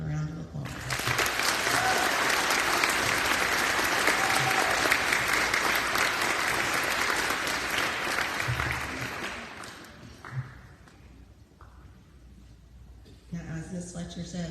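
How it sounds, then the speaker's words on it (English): An audience applauds elementary students receiving academic awards, a full, steady burst of clapping that runs for several seconds before thinning and fading, followed by quieter room sound and a brief return of noise at the end. "If you'll give them a round of applause"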